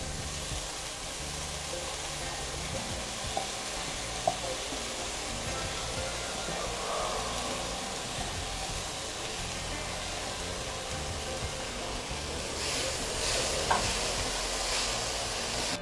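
Eggplant sautés in a pan with yellow and red peppers and onion, a steady close frying hiss with occasional faint stirring clicks and no talking.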